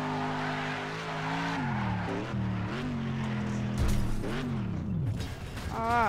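A car being crushed in a next-gen driving game: steady mechanical engine drone with creaking and grinding, bending in pitch, then a sharp crunching impact near the middle followed by more scraping.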